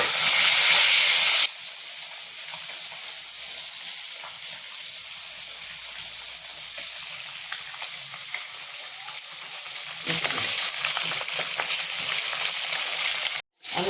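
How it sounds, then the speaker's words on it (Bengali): Pieces of rohu fish lightly frying in hot oil: a loud, steady sizzle at the start fades to a softer hiss through the middle, then swells loud again near the end. "এই দেখো বন্ধুরা মাছগুলো আমি হালকা করে ভাজবো"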